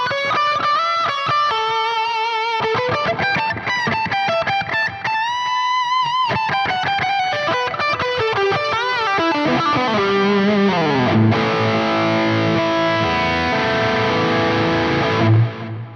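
Distorted electric guitar through a Soldano amp plugin with a boost pedal and compressor in front, playing loud sustained chords and bends, then chugging palm-muted low riffs toward the end, alone without talk.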